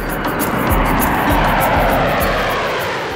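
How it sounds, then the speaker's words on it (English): Heavy aircraft at Kandahar military airfield, with Chinooks, Hercules and Harrier jets sharing the runway; a loud, continuous engine roar fills the scene with a fast rhythmic rotor-like pulsing throughout, close by. "Domestic Afghani planes share the runway with Chinooks and Hercules."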